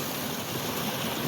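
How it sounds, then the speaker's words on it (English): A creek at Charles F. Lewis Natural Area flows with a steady, even rush of water, a close and continuous wash with no other sounds standing out. "This is the creek that you actually cross to finish."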